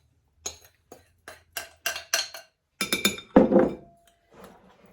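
Mixing bowls are shifted around during orange scone baking, giving a series of sharp ceramic or glass clinks, first spaced singly and then in quicker clustered knocks ending with a louder clatter, close and without talk.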